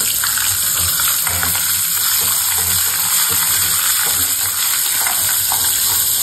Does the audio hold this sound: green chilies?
yes